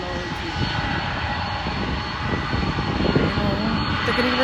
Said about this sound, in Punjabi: ਇਹ ਤਾਂ ਕਾਫੀ ਵੱਡਾ ਲਾਈਨਾਂ ਵਾਲਾ ਜਹਾਜ਼